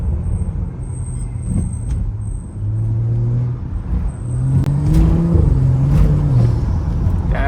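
BMW 335i engine accelerating on country backroads, heard from inside the car, with a low droning hum that rises in pitch through the gears and climbs steadily toward the end.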